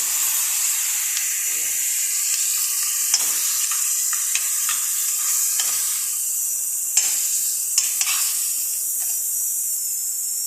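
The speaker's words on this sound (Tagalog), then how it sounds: "Lagay na natin ang ating hipon" Shrimp fry in a pan with squash in coconut milk, a continuous loud sizzle and hiss with occasional stirring scrapes and spatters, no voices.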